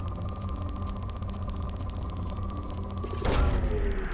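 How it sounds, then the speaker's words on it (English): Resource probe launching in Mass Effect 2: a steady electronic hum and tone, then a sudden burst of release with a descending whoosh near the end, against a continuous synthetic drone. "Probe launched."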